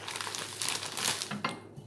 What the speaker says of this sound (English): I put them in a plastic bag